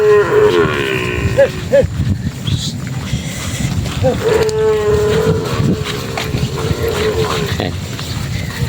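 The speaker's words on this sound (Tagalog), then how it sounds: "Naabangan na nila yung mga baka dito ah" Cattle lowing repeatedly on a ranch in Tiaong, Quezon, long moos rising over a busy outdoor background, with people talking and laughing nearby.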